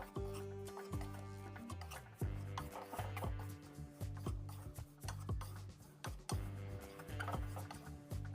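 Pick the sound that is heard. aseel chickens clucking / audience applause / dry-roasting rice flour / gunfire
dry-roasting rice flour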